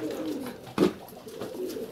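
Pigeons nesting among old, damaged grain sacks coo softly in a low, murmuring rhythm, with one brief louder coo standing out partway through and no talking.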